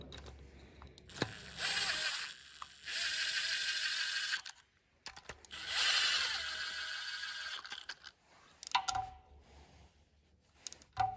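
A ratchet tightens the two chain guide bolts on a GM 3.6 engine during a timing chain replacement. Close, dry mechanical clicking comes in two long runs with brief gaps between them, and no one speaks.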